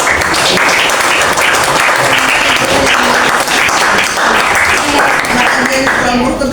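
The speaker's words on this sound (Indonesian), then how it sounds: "Kita kasih tepuk tangan buat semuanya" A classroom full of students claps loudly and steadily for several seconds, with excited voices and cheers mixed into the applause.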